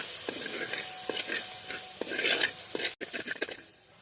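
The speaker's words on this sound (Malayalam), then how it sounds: "നമുക്കത് നന്നായിട്ട് ഇളക്കി കൊടുക്കാം." Onion with chilli powder, turmeric and salt sizzling in hot coconut oil for spicy sardine curry, stirred steadily with a spoon scraping the pan in repeated strokes, the frying hiss constant underneath.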